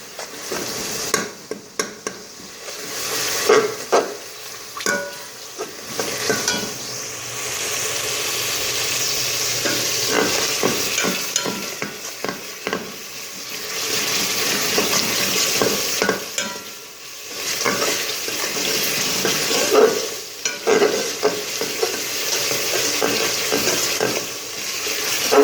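Tomatoes fry in a pan, a loud, continuous sizzle broken by frequent scraping stirs and clatters of a spoon against the metal, with no voices over it.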